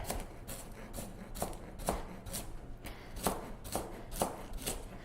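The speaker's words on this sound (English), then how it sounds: "We'll finish chopping our vegetables. I'm going to add some carrot." A knife chops fresh garden carrots on a cutting board in a home kitchen, with steady, close, rhythmic strikes repeating alone for several seconds.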